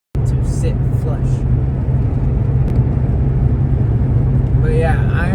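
Steady low road rumble and engine drone from a modified 350hp Mk7 car driving on the road, continuous and close throughout, with a few faint brief sounds above it.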